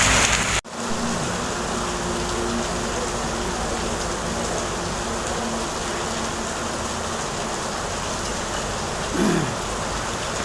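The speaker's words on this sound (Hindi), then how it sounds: "बहुत तेज़ बारिश है भाई।" Heavy monsoon rain pours down steadily in a dense, continuous hiss, with a brief dropout near the start and a faint passing sound later.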